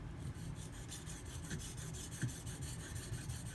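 A BRK Northstar EDC knife being sharpened to remove a micro chip, a steady close rasping rub from continuous back-and-forth strokes on the stone, quiet and even throughout with no voice.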